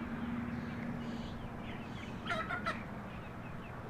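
Brahma chickens cluck and murmur softly over a steady background hum, with a few brief higher squawks partway through, on a damp, cool day.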